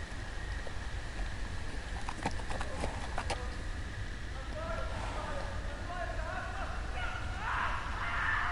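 A horse's hooves clip-clop in a short uneven run partway through a steady outdoor ambience in a Game of Thrones game scene, fairly faint and set back rather than close.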